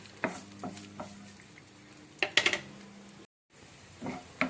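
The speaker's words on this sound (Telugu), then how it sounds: "క్యారెట్ కాజు అల్లం ఇవన్నీ వేసి కొంచెము లైట్గా ఇలాగా పచ్చివాసన పోయే వరకు మంచిగా ఇలాగా ఫ్రై చేద్దాము" Carrot, cashew and ginger fry lightly in a pan, with a soft sizzle under several sharp scrapes and clinks of a stirring spoon against the metal, briefly breaking off and then resuming.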